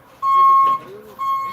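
Back aisles of a Costco warehouse carry a steady electronic beep from moving vehicles, one long tone followed by a shorter one over a noisy indoor hum, with a voice talking nearby.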